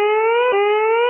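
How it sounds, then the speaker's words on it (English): A civil defense siren in Pulaski holds a steady, loud wailing tone with rich harmonics and only a slight dip midway, sounding alone. "Uh-oh, the sirens."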